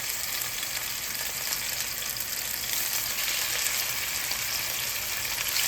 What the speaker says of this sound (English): I'm just gonna pan fry my chicken.